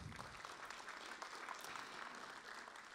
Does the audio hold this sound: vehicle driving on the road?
no